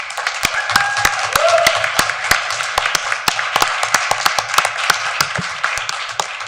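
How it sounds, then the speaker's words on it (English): A small audience at a board meeting gives a round of applause, heard as scattered, fairly sparse hand claps spread steadily across the whole stretch, with a brief faint tone near the start. "if you would all join in and help me celebrate Anne with a large round of applause"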